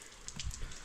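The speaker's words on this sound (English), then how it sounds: "Raining." Light rain pattering steadily, with a few louder drops tapping close by against a soft, continuous hiss.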